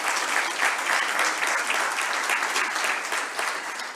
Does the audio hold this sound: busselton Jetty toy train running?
no